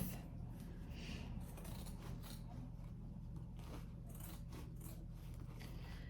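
Fabric scissors cut steadily through thick quilting fabric along a pocket edge, a series of soft close snips and scraping blade sounds, faint and intimate against a low steady hum.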